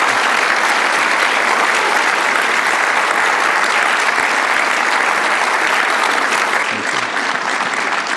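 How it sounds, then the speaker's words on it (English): Sustained, loud applause from an audience at a talk on peace-making in the Holy Land fills the whole stretch, a dense steady clapping that barely wavers and thins slightly near the end. "Let's give him a round of applause for the answers"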